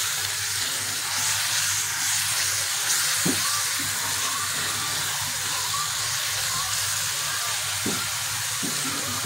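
Spiced potatoes in a hot pan hiss and sizzle steadily after a glass of water is poured in, a continuous close frying noise with a few faint clinks and no talk.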